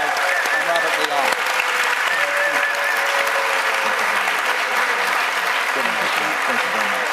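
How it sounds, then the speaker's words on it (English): Loud, steady audience applause for two congressional debate candidates, a thick wash of many hands clapping continuously with faint crowd murmur underneath. "A big round of applause for both of them."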